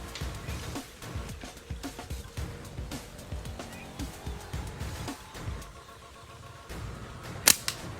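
A slingshot shot at a hanging mango gives a single sharp crack near the end, set against a quiet outdoor background with someone talking through most of the stretch.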